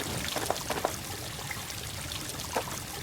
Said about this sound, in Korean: 물소리로 가볼까요?